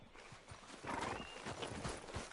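In the video game Red Dead Redemption 2, a horse's hooves clip-clop steadily at a quiet level, and a short whinny rises over the hoofbeats partway through.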